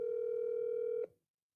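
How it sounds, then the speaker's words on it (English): A steady telephone dial tone holds for about a second and then cuts off abruptly, leaving silence, as a call is placed on a phone. "Let me see if Cuzzo answer the phone."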